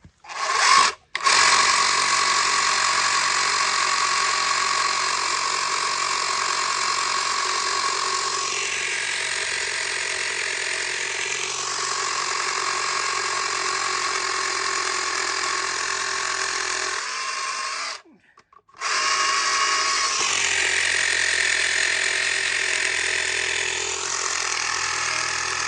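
A 12V SDS drill bores into hard concrete with a loud, continuous buzzing hammer-drill whine, briefly stopping near the start and again before resuming, sustained close up with no talking.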